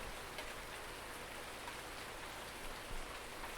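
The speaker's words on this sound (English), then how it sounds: "It's definitely raining harder than when it started." Steady rain falls continuously in the farming video game Farming Simulator 19, a soft, even hiss with occasional faint drops, quiet throughout and with no voices.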